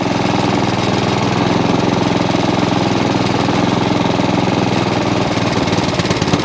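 Honda HRX537 lawn mower engine running steadily up close, its revs sagging and faltering slightly near the end; no voices.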